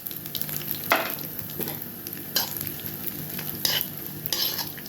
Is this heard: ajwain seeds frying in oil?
yes